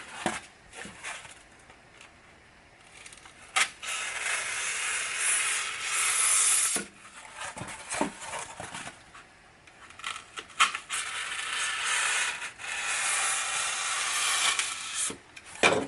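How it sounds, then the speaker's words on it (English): A blade slices through the foil facing of a foil-backed board while shaping an exterior faucet freeze protector, making long hissing, scraping strokes that come in several bursts separated by short quiet pauses. "You're just going to slice through that foil without cutting through to the other side."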